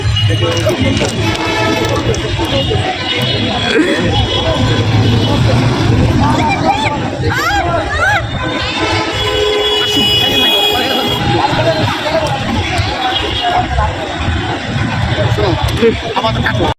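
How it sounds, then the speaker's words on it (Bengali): A train approaches along a railway line, its rumble and rising horn-like tones building steadily beneath constant loud crowd chatter and voices nearby. "ওই যে দেখতে পাচ্ছি ট্রেন অলরেডি চলে আসছে কাছাকাছি"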